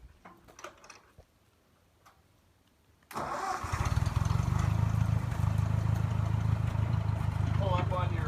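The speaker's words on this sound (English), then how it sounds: "let me start up the machine here" A tractor engine starts up with an abrupt burst at about three seconds, then settles into a loud, steady mechanical chug and idle that runs to the end; faint handling noises come before it.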